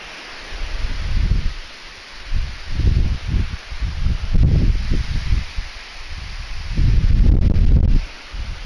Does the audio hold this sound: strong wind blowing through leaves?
yes